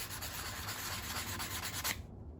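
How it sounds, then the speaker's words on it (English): Steady, gritty rasping of 80-grit sandpaper rubbed by hand back and forth over cypress wood, close and continuous for a couple of seconds before stopping abruptly. "I'm just doing a little hand sanding. I got some 80 grit sandpaper."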